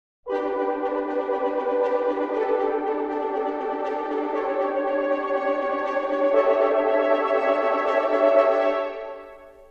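Orchestral Tools Berlin Series sample library repetitions patch playing a sustained, steady run of rapidly repeated orchestral notes with rich harmonics for about nine seconds, swelling slightly near the end before cutting off, with no talking.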